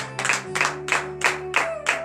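A church congregation claps in a steady rhythm, about six sharp beats over two seconds, with a held musical tone sounding underneath, during a morning prayer service.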